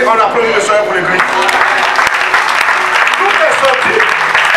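Church congregation claps loudly and continuously in praise during a service, with voices and musical tones mixed in among the applause.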